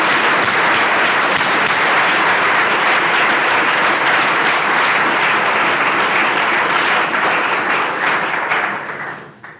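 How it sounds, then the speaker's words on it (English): Loud, sustained audience applause at a dementia and Alzheimer's research center's annual state-of-the-center event, filling the room steadily for about nine seconds before tapering off at the end. "So let's give all of them a round of applause."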